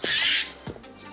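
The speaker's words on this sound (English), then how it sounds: "that's a squeaky bird" A squeaky bird calls once in a high, sustained squeal at close range outdoors, followed by quieter faint chirps with no talking.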